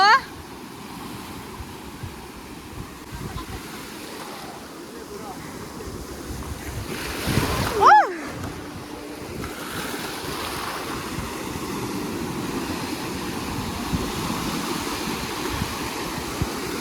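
Ocean waves at the beach wash in as a steady broad roar with heavy wind buffeting the microphone, and a louder surge partway through, while people talk nearby.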